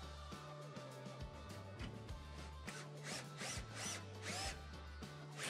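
Power screwdriver driving screws into a speaker housing at low torque, giving a close, faint, rhythmic whirring with repeated short stop-and-start bursts as each screw turns in.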